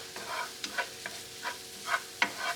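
Beaten eggs softly scrambling in a hot pan for homemade pad thai, with a low, steady sizzle broken by soft scraping stirs at a close, quiet level.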